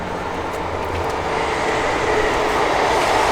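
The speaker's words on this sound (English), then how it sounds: "There's a train." A train rumbles past nearby, a dense, steady roar of rolling wheels and rushing noise that grows slightly louder over a few seconds.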